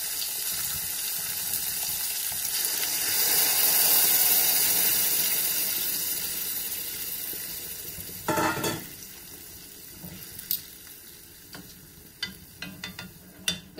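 Sauce poured into a hot pan for a Azorean-style steak with egg on toast, giving a steady watery hiss that swells and fades, followed by a few sharp clinks and splashes toward the end, with no talk.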